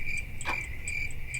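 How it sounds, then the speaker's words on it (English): Crickets chirp steadily in a summer outdoor setting, a continuous high trill running throughout with no voices present. "Crickets."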